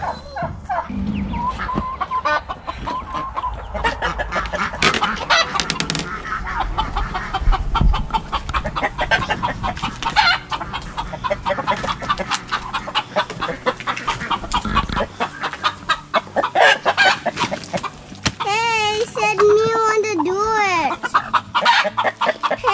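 A flock of chickens clucks and squawks continuously, busy and close, with a rooster-like call rising near the end and faint voices underneath.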